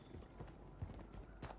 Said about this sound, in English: I can just hear some footsteps and like wooden climbing noises.